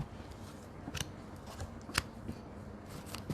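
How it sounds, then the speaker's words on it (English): Tarot cards are shuffled softly and nearby, with faint rustling and a few crisp snaps over a quiet room hiss. "Sorry, the cards are not shuffled properly."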